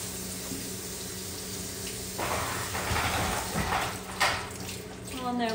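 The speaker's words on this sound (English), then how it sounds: "And just run a little bit of water over it" Tap water runs over lettuce held in a kitchen sink, a steady splashing rush that grows fuller and more uneven partway through as the leaves are rinsed, with light clatter near the end.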